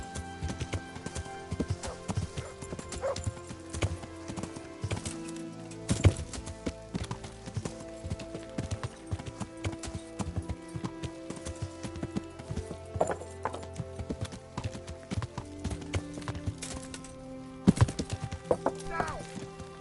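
Horse hooves clip-clop steadily in Kingdom Come: Deliverance, a medieval riding game, with a neigh here and there. The hoofbeats stay close and fairly loud over a busy mix of game sounds.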